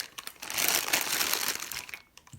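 A plastic pastry piping bag fitted with a round tip is handled and squeezed, giving a steady close crinkling rustle for about two seconds that stops abruptly near the end.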